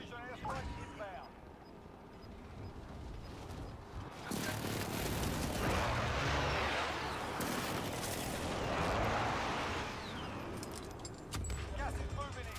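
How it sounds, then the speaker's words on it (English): Heavy rumbling blasts from a precision airstrike in the video game Call of Duty roll on for several seconds in a long, loud wash. People talk over and around the explosions. "precision airstrike inbound."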